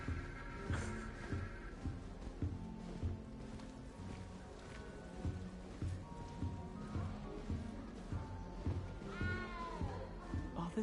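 A cat meowing in the Hogwarts Legacy video game, several drawn-out meows over a steady looping game soundtrack, with a rising, wavering cry near the end.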